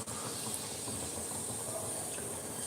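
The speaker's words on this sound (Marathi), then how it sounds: "तेल छानपैकी तापलेलं आहे याच्यामध्ये जिरा टाकत आहोत" Cumin seeds sizzling in well-heated oil for a Khandeshi brinjal bharit, a steady close hiss with no talking.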